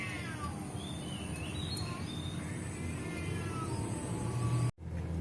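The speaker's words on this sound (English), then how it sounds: "She heard a cat" A cat meows several times in thin, drawn-out calls, fairly distant and mostly alone, over a steady background hum that cuts off abruptly near the end.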